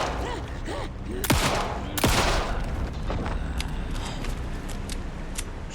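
Gunshots in Alan Wake II, two sharp close cracks in quick succession among smaller clicks and creaking mechanical noises, with faint scattered impacts after.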